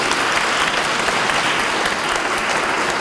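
Dense, steady applause from a large gathering of children and adults at an Easter Monday event with a bishop, continuous and loud for the whole stretch.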